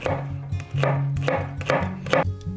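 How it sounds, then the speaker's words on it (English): Celery is chopped finely with a knife on a board, giving a run of close, crisp blade strikes in quick irregular bursts. "Now I like to have my celery very finely cut."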